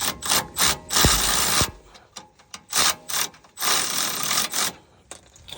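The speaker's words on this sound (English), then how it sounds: "Put your nut in and go ahead and tighten it up like we did before" A hand ratchet tightens the nut on a rear shock of a 2019 Mercedes-Benz CLS450, bursts of quick clicking strokes stopping and starting several times, close to the microphone with quiet gaps between.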